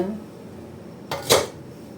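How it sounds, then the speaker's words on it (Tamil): Two quick metallic clinks of pots and utensils while payasam is poured into kulfi moulds, one faint and one louder, over quiet room background. "இப்போ இதில் குல்ஃபிலையும் ஊற்றிடலாம்"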